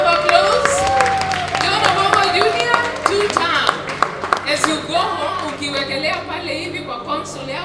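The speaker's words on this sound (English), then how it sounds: "That's a beautiful round of applause." A round of applause for a musician from fans at a neighbourhood event, steady clapping and crowd noise throughout, mixed with voices and some background music.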